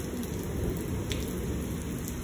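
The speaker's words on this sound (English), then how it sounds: "the rain is blowing into the garage now." Heavy rain pours steadily during a thunderstorm in Lubbock, Texas, a dense constant wash heard from a garage, loud and unbroken for the whole stretch.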